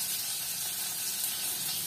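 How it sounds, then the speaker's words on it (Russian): Pieces of raw meat frying in a pan for skewer-style kebabs, giving a steady, even sizzling hiss that holds at a constant level with no voices over it. "я выкладываю на сковороду по 1 кусочку мяса"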